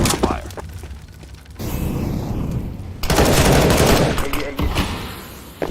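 Sustained automatic gunfire in Counter-Strike (CS:GO) rattles loudly in dense bursts, with a brief lull before a second, heavier stretch of continuous firing.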